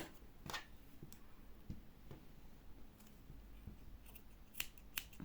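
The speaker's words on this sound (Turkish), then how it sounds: "İpi kesiyorum." Scissors cut crochet yarn during a handmade crochet phone bag project, giving a few quiet, sharp snips and clicks close by, spread irregularly over a faint background.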